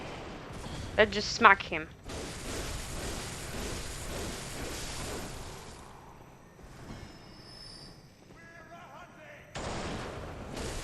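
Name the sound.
enemy gunfire, from the video game Bloodborne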